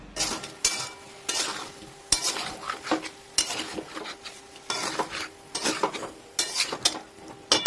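Rui fish curry spice paste is stirred in a pan over a slow flame, with rhythmic scraping and clinking of a spoon against metal in regular strokes over a soft sizzle, close and without speech.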